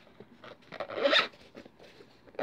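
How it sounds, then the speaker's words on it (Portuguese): A zipper runs around a rigid Oakley sunglasses case in several short, close rasping pulls, with a longer stroke in the middle and one more at the end. "Tem zíper, ó. Case com zíper."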